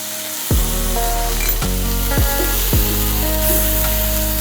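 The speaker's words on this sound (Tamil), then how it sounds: "ஒரு 3 பெரிய வெங்காயம், நல்லா வதக்குங்க" Three large onions with a pinch of salt sizzle steadily in a hot pan for mutton chukka, a loud continuous hiss broken by a few sharp bursts as they are tossed and stirred.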